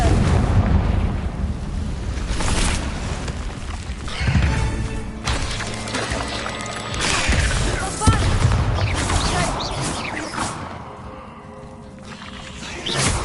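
A Confringo fire spell blast in Hogwarts Legacy bursts out as loud, roaring explosive whooshes that swell and fade over several seconds, with a sharp crack partway through and rumbling battle noise around it.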